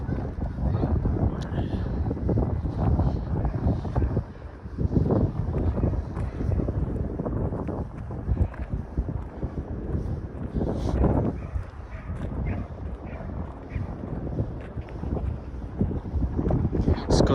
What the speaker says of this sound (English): It's not very windy, like for me. I don't feel it so windy, but for you maybe.